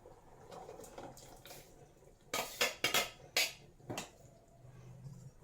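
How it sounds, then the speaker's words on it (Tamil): Water splashes into a pot of jackfruit seed curry in a home kitchen in a few quick, close gushes, with soft clinks from the pot before and after. "கொஞ்சம் தண்ணி கொஞ்சம் ஆட் பண்ணிங்க"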